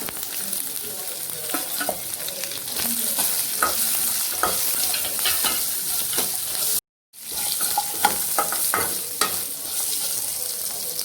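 Onions sautéing with fennel and cumin in a pan give a continuous sizzle, broken by frequent scraping and clicking stirs, with a very brief silent gap midway and no voices.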